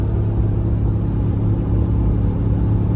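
A Ram GT truck with a Hemi engine rumbles steadily while driving, a deep, constant low exhaust drone heard from inside the cab.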